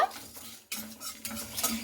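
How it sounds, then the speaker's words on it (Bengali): Whole cumin and coriander seeds fry in a pan while a utensil stirs and scrapes them, giving short close scraping strokes over a light sizzle. "খুব ভালো করে এগুলোকে আমি ভেজে নেব"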